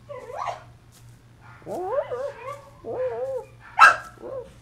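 Dogs bark and whine indoors in a handful of separate, close outbursts, some drawn out and wavering like howls, with a low steady hum beneath and gaps of quiet between.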